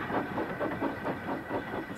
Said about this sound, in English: Percy waited on the siding until Henry had steamed by